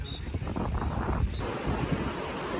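Waves wash onto a beach while gusty wind buffets the microphone, a steady roar of surf with blustery rumbling throughout and no voices.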